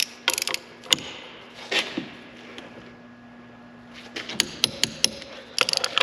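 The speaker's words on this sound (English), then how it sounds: "So get your torque wrench." Torque wrench with a 17mm socket tightening locker bolts on a 2021+ Kawasaki Mule Pro, crisp ratcheting clicks in short clusters with pauses between, close and clear over a low steady hum.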